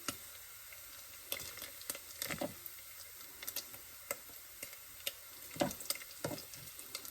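Bacon pieces are cooking in a soup pot for pumpkin soup. A low, constant sizzle runs underneath while scattered close ticks, scrapes and small spatters come through at irregular moments.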